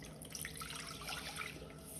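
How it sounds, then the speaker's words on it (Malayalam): Water poured straight into a pot to make tea, a faint, brief trickling and splashing stream heard on its own. "അപ്പോൾ നമ്മളിത് ഡയറക്റ്റ് ഈ പാത്രത്തിലോട്ട് അങ്ങ് ഒഴിക്കും."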